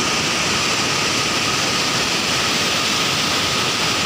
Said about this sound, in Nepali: यो सेप्ली झरना भनेको होइन ओखलढुङ्गा भित्र मध्येको दोस्रो ठुलो झरना है यो